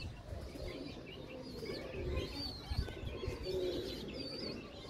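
Pigeons cooing steadily in a low, rolling murmur, with occasional higher chirps over a constant ambient background.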